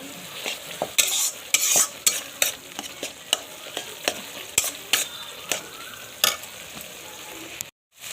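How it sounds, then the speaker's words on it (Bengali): Mustard paste and tomato frying in a pan for a fish curry, a soft sizzle under a steady run of sharp spatula scrapes and taps against the pan, ending in a brief cut to silence. "টমেটো সরষে আমার ভাজা হয়ে গেছে।"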